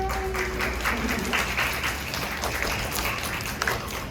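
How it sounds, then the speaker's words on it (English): An audience at a book fair children's event applauds the author, dense steady clapping filling the room throughout, with a brief held tone near the start and faint crowd murmur beneath. "can we give her another round of applause?"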